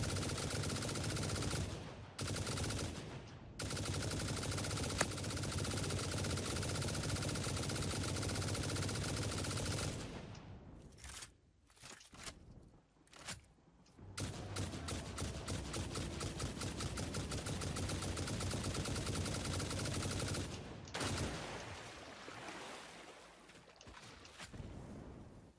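Sustained automatic gunfire in the factory-building game Satisfactory, dense rapid bursts running loud and continuous with a short break partway through, no talk over it.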